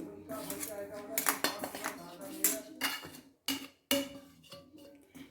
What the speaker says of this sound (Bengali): এবার ভালো করে মিক্সড করে নিতে হবে